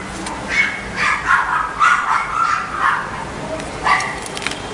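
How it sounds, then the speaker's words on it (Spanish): Several dogs barking and yipping nearby in repeated bursts, fairly loud, with some whimpering between barks. "R. Ángel, esto está perturbando, ¿no? Los perritos"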